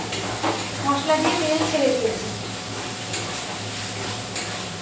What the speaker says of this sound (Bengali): মশলা আমাদের কষানো গেছে, মশলা দিয়ে তেল ছেড়ে দিয়েছে।